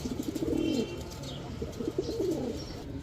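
A pair of red checker racer pigeons coo softly nearby in low rolling bursts, two main phrases over a faint background hum, with no talking.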